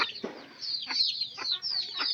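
A chicken gives a run of short, repeated clucks close by against near silence, with no one speaking.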